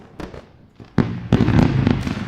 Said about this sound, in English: Here we go, guys, with the fireworks.